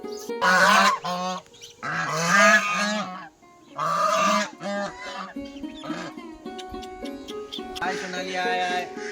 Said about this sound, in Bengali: যে আওয়াজটা তোমরা পাচ্ছ সেটা হচ্ছে হাঁসের আওয়াজ